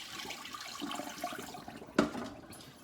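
Cloudy rinse water is poured off washed rice in a kitchen, a soft, low splashing and trickling that ends in a brief, louder gush, close and fairly quiet with no talk.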